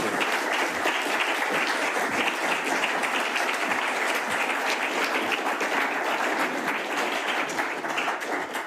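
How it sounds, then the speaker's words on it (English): An audience at a Mises University 2020 lecture applauds to welcome Judge Andrew Napolitano, a steady, dense roar of clapping that holds for the full length without a break. "So a warm round of applause for him,"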